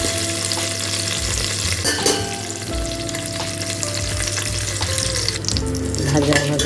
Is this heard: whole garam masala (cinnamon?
yes